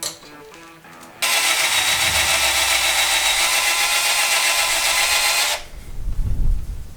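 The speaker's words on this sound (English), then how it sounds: "I'm gonna finish bolting this in" A power tool whirs loudly and steadily for about four seconds, close by, while a turbocharger is bolted onto a 121 Metro, followed by a few dull knocks.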